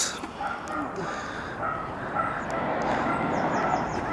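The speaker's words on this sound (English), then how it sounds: "There's a barking dog around." A dog barks somewhere in the distance outdoors, its yaps faint and scattered under steady background noise.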